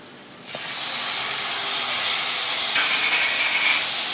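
Onion and tomato go into a hot pan for veg masala noodles, setting off a sudden, loud, steady sizzling hiss that carries on close to the microphone.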